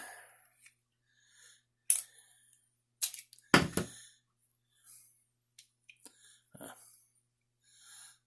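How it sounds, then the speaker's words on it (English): The hammer of an old-model Blackhawk revolver is cocked, giving a few crisp, close metallic clicks spread out over several seconds, separated by quiet gaps with faint breathing and handling noise. "So this is like the old Colt, and with the 4 clicks."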